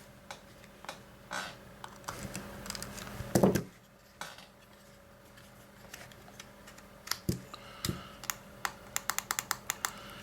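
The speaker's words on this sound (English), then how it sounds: "we'll put our little screws back in here." Small screws being put back into a cheap handheld radio speaker microphone, heard as close, sharp little clicks and ticks, scattered at first and then coming in a quick rhythmic run of tiny metallic taps, with no talking.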